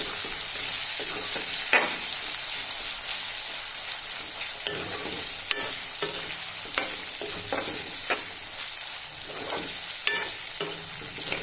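Mutton pickle frying in a wok, stirred steadily: a continuous close sizzle with repeated scraping strokes of the spatula at an irregular rhythm.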